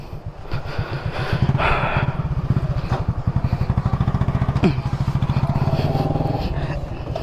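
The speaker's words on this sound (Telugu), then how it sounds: "చలో ఇప్పుడు నా బైక్ మీద వెళ్తున్నాం" A motorcycle, a Royal Enfield-style adventure 250, being ridden on a group meetup ride; its engine thumps in a steady, close, loud rhythm throughout, with brief revving and some wind rush.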